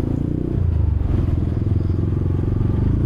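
Motorcycle engine rumbling steadily and close through slow, congested traffic near a junction, with a continuous low drone and faint clatter throughout.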